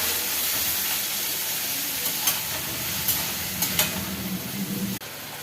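Onion, tomato and chili fry in a pan with a loud, continuous close sizzle, punctuated by a few sharp clicks and scrapes of stirring, and no talking.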